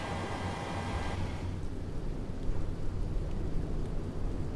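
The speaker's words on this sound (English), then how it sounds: "I did not know it was going to be raining" A wash of rain and low rumbling thunder from a flight simulator set over Miami, a broad steady hiss with a deep rolling undertone, moderately loud throughout with no voices.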